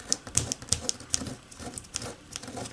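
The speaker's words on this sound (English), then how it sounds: "I'm going to fold it up about like that." Sheets of origami paper being folded into an inflatable Easter egg emoji make a close series of crisp crinkles and sharp creasing snaps, spaced irregularly with soft rustling between them and no talk.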